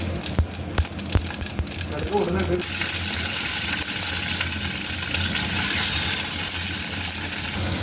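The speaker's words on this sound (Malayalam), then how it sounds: "എണ്ണ ചൂടായി വരുമ്പം അതിലേക്ക് കടുക്, കറിവേപ്പില ഇട്ട് കൊടുക്കാം" Mustard seeds and curry leaves frying in hot oil for an egg dish, a steady broadband crackle and sizzle that builds after a couple of seconds, with sharp early pops as the seeds hit the oil, with a voice talking over it.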